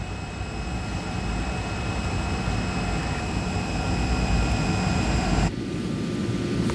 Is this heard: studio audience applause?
no